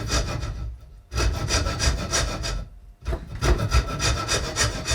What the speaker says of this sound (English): file a bit, turn a bit, and just keep doing that